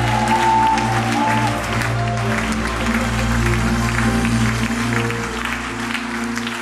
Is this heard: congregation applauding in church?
yes